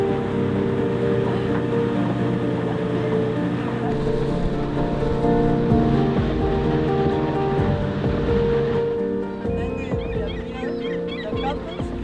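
A boat motors over ocean waves off Valdés in Patagonia, a steady engine drone and water wash that thins out near the end, when faint bird calls come through.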